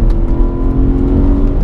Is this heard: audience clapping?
no